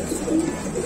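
Pigeons in a cage at a pigeon shop giving a soft, brief, low coo that swells and falls, heard close.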